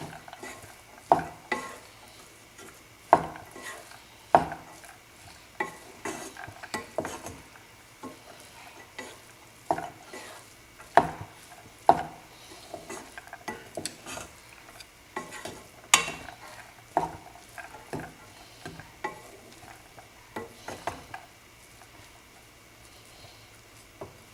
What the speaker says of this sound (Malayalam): നല്ലോണം മിക്സ് ചെയ്യുക.